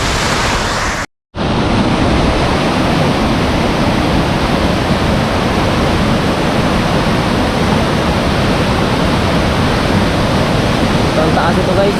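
Tagbibinta Falls in Maragusan, Davao de Oro, pours with a loud, constant rushing roar of falling water, broken only by a brief silent cut near the start.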